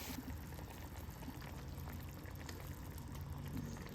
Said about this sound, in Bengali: ওই জলটা এর মধ্যে গড়িয়ে দেবো উপর থেকে